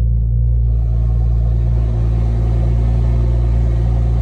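A Porsche Turbo S sports car engine in track mode rumbles deep and loud nearby, holding a steady, powerful low drone for a few seconds.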